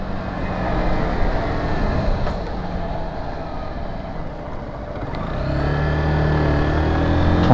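Zontes 125 Scrambler X motorcycle engine droning steadily while riding, with wind noise, a broad continuous rumble that dips slightly midway and then builds as the bike pulls harder.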